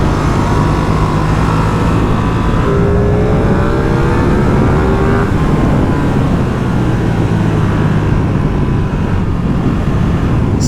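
A Ducati Streetfighter V2 (2022) twin-cylinder motorcycle engine revs and pulls steadily, loud and close, with the pitch rising under acceleration around 8000 rpm and a constant rumbling drone.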